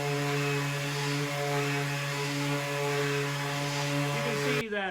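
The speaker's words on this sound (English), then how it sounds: "I'll also go sand this side for a couple minutes here" A Makita 18V LXT 5-inch random orbit sander on high speed sands wood, a steady droning whine with a strong hum running continuously for several seconds, then cutting off abruptly near the end.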